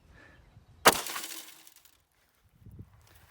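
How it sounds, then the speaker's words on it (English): A Wilson Combat pistol fires a single round through tempered vehicle door glass: one sharp crack and bright shattering burst, then a fading crackle of breaking glass, followed by quiet and a faint thump. "we're just going to shoot through this glass and hit this guy right in the face"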